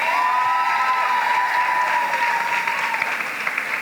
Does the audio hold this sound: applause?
yes